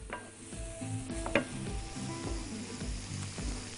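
Onions fry in a pan while being stirred, giving a soft, steady sizzle with light clinks of a utensil and one sharper knock, heard close and alone.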